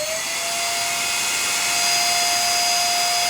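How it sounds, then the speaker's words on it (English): Electric air blower running at high power, a loud steady whooshing roar with a sustained motor whine, constant and close with no talking. "now let's turn this on. It's my air blower."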